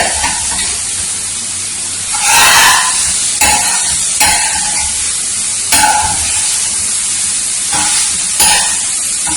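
Cauliflower gobi fry sizzles loudly in a pan, close by, with a constant hiss broken by several bursts of stirring and scraping.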